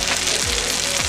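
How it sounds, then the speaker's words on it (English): Sizzling pork and chicken with plenty of leeks on a hot plate, frying steadily in a loud, close hiss with no voices over it. "Ito yung sizzling na pork chicken. With lots of leeks."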